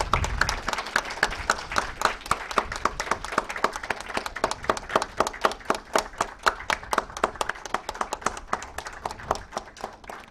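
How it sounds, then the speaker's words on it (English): Steady audience applause at a women in leadership summit, many hands clapping densely and continuously throughout, fairly close, with no talking. "clapping shouldn't stop"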